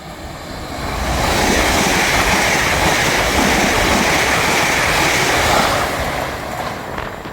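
A fast train passes through Edinburgh Gateway station. A broad, steady roar swells within about a second, holds loud for several seconds and then fades, with no talking.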